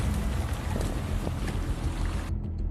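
Steady wind buffets a boat out on open water, a constant loud roar of wind and water noise that cuts off abruptly near the end, with no talking.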